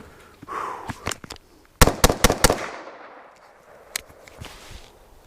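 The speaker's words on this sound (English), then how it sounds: "now I'm gonna shoot him until he falls down" Gunshots at a reactive steel target on an outdoor range: a few scattered cracks, then a fast burst of four loud shots in quick succession, followed by a single later report, each with a short echoing tail.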